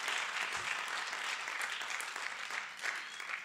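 Steady, dense clapping from a seated crowd at a community event, moderately loud and continuous for a few seconds without anyone speaking over it.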